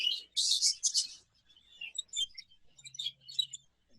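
Young budgerigar cocks, including yellow-faced sky and cinnamon golden-face birds, give quick high chirps and twittering calls in short bursts, fairly close and alone without talk.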